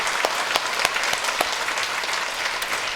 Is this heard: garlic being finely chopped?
no